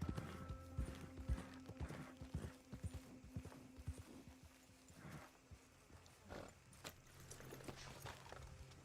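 Faint, steady clip-clop of horse hooves trotting along in the video game Red Dead Redemption 2, with a low background hum and scattered clicks throughout.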